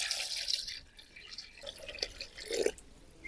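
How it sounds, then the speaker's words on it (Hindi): Water poured from a container onto raw chicken being prepared for karahi, splashing and trickling close by in uneven bursts, with no talking. "हम डालेंगे पानी।"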